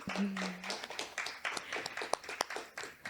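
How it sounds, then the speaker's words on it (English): Scattered clapping from a small open-mic audience at Handmade Toledo, a few hands patting unevenly and fairly close, with faint murmurs mixed in. "Let's give him another round of applause"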